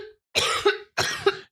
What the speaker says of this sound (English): she's having a coughing fit